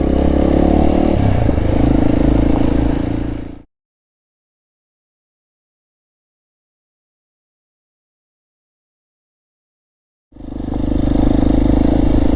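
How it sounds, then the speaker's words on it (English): A Honda CRF 300 L motorcycle with a full Black Widow aftermarket exhaust drones loudly close by while riding, then cuts to several seconds of total silence before the loud engine sound returns. "there's no denying this exhaust is a lot louder than the stock setup"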